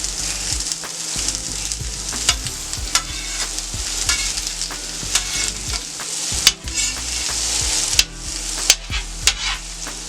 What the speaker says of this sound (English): I'm going to start with my main big vegetables. My zucchini, onions, and my yellow squash,